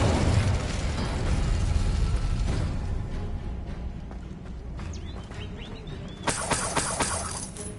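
Incendio fire spell bursts into a loud roaring crackle in the Hogwarts Legacy video game, then fades to a quieter stretch with soft game effects before a bright crackling flare returns at the end.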